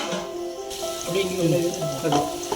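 Onions sautéing in a pan for Dindigul Thalappakatti biryani, a close steady sizzle with soft stirring movements and a low hum behind it, no voices.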